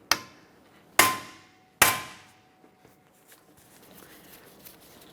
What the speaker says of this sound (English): we'll give this a loving tap with a hammer